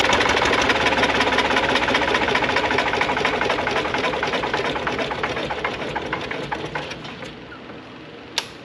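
An air-cooled Lister diesel engine idles with a fast, even knocking beat, loud and close at first and gradually fading quieter toward the end, with a single sharp tap near the close.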